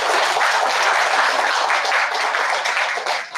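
A seated audience of older members at a New Year community gathering applauds warmly, a steady, dense wash of many hands clapping at even loudness throughout, with no voices over it.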